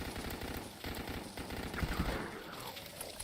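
Rapid automatic fire from the Gut Stitcher SMG in the game Dead Frontier rattles out in a continuous beefy burst that lasts for a few seconds.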